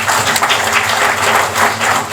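Audience at a Marathi felicitation event bursting into steady applause, dense continuous clapping from a large crowd, loud and close with no voices over it.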